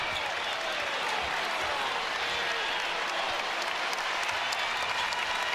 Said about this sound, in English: Crowd appreciates the effort of numeral zero.